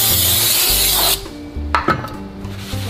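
A rear brake part on a 2011–2017 Honda Odyssey being rubbed and wiped clean, a close rasping scrub that stops abruptly, followed by a few light knocks and handling noises.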